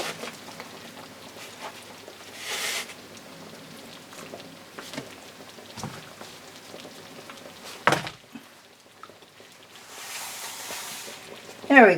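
Meat and gravy boil in a pan with a soft, crackling, rain-like bubbling that continues throughout, broken by a few clinks of utensils, with a voice talking over it.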